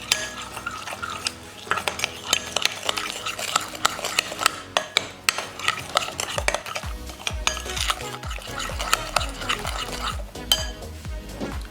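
A spoon mixes fruit chaat cream with black pepper, chaat masala and a pinch of salt in a bowl, giving busy, continuous scraping and clinking of utensil on dish throughout.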